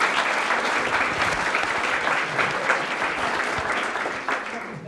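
Audience applause at a women's business expo: sustained dense clapping from a seated crowd, steady and fairly loud across the whole stretch, tapering slightly at the end.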